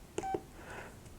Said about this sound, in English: Verizon's typical sounds are not the best.